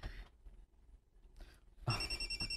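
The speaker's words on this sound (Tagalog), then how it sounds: "Nanawag na si Carding" A telephone rings, faint and distant in a quiet room, with a short burst of ringing tones followed by a louder, brighter ring near the end.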